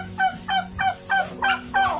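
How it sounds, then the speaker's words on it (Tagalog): Farm turkeys call in a close run of six loud, evenly spaced honking gobbles with a harsh nasal tone, one after another with brief gaps. "So yan yung mga pabo."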